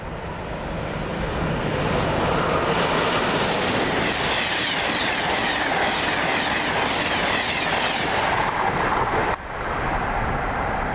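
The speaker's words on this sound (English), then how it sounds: "Train approaching. Please remain behind yellow line." An Amtrak train rolls steadily into a station with a loud, continuous rumble and rush of wheels on rails. The noise holds at one level and dips briefly near the end.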